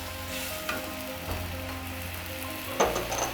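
Hot mustard masala sizzles loudly in a pan as a splash of water hits it, with intermittent spoon scrapes and a sharper burst of hissing and crackling near the end.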